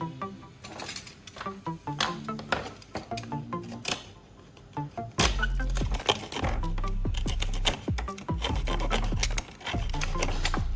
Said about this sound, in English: I'll trim off any excess foam